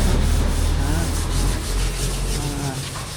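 Steady rubbing and scraping of sandpaper against wood coated with sanding sealer, continuous and close, easing slightly toward the end.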